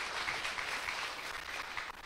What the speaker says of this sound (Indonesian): Mari kita berikan tepukan sambutan bergemuruh